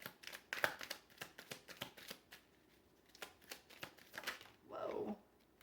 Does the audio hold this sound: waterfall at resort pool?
no